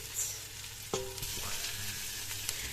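Veal pieces sizzle in a pot of translucent onions, a steady frying hiss broken by a few sharp crackles and a metallic scrape of stirring, moderately close with no talking.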